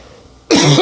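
A single harsh cough breaks sharply out of near-silence, loud and close, with a raspy throat-clearing quality that stays strong through the brief end of the clip.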